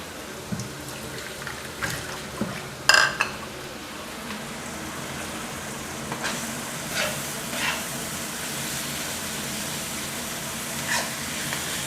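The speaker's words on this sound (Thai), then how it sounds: "ใส่ปลาหมึกที่เราหั่นล้างทำความสะอาดไว้นะครับ ลงไปผัดได้เลยนะครับ" Cleaned, cut squid is stir-fried over the highest heat in a hot pan, sending up a steady wet sizzle with light scrapes and clinks from stirring. One sharp knock stands out early on.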